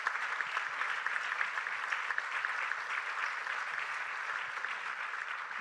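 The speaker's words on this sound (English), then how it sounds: "I think we can make an applause for organizing this." Crowd applause at an annual resolution conference, thanking the organisers as the day ends: an even, moderately distant wash of many hands clapping that holds steady throughout.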